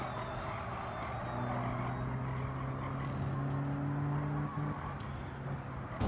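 A pack of racing cars in Gran Turismo 7 drones along with steady engine hum and rising, sustained tones as they run close together, at moderate volume, with no talking.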